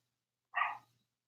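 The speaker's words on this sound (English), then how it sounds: "My puppy sounds excited, huh?" An excited puppy lets out a single short, high yip-like bark, brief and fairly close against an otherwise quiet background.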